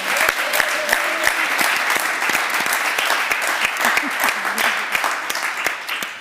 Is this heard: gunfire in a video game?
no